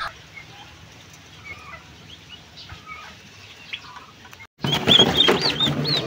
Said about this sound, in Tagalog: May available kami dito na 40 heads na pabo chicks.